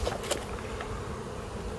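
Honeybees buzzing around an open hive holding young bees and capped brood, a soft steady hum at low level with a few brief louder passes close by.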